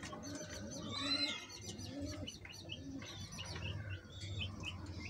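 A grizzle pair of racing pigeons cooing in a loft, soft repeated low coos mixed with faint chirps from other birds nearby.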